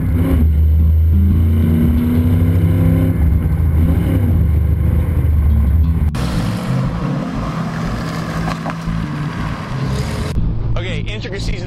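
A 1967-style 427 Shelby Cobra replica with a V8 roars loudly while driving, its deep, steady engine drone changing pitch as it accelerates, with wind and road noise throughout.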